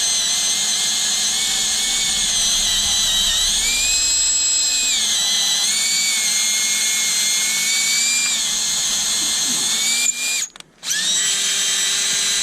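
A power drill whines steadily and loudly up close, boring into the engine block of a 2014 GMC Sierra for a Time-Sert thread repair, its pitch dipping slightly under load, then briefly cutting out and restarting near the end.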